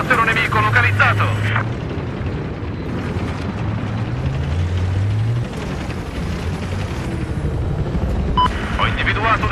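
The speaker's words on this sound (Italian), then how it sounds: "elicottero nemico localizzato." Enemy helicopter in a Battlefield 4 match, a steady rotor and engine drone running under battlefield noise with bursts of gunfire, while a radio-style voice speaks in Italian.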